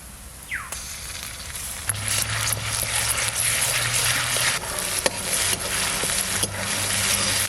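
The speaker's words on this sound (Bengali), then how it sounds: "এইবার ওই মশলাগুলো দিয়ে দেবো তেলের মধ্যে আদা রসুন" Spices, ginger and garlic hit hot oil for a village-style mutton polao and fry with a continuous, crackling sizzle, broken by occasional stirring scrapes and taps, close and moderately loud with no talk.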